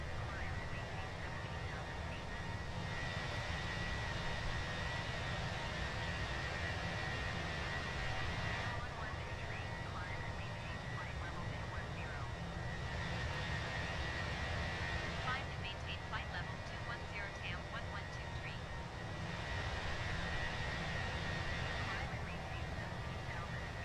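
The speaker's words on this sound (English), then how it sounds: "Is the plane too loud" Jet engines of a Fenix Airbus A321 with sharklets roar steadily in Microsoft Flight Simulator, a continuous broadband rumble and hiss that swells slightly in places and never drops out.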